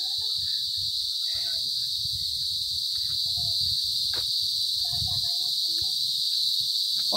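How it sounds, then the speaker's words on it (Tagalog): Constant high-pitched cricket chirping at a beach fills the background, loud and unbroken, with faint low rustles and scattered sounds underneath. "Ayan, maingay."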